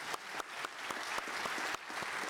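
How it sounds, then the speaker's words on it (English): Audience applause for a panel at an aviation conference on remotely piloted aircraft systems, a steady dense wash of clapping that holds loud and even throughout with no voices over it. "please join me in thanking our panel and giving them a round of applause"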